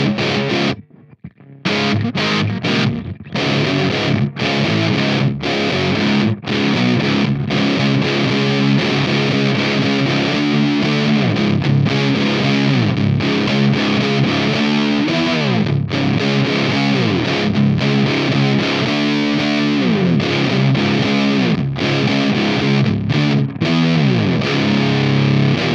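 An electric guitar with humbucker pickups runs through a muff-style fuzz distortion plugin, playing thick, saturated sustained chords and riffs continuously with brief gaps near the start, loud and alone without voices.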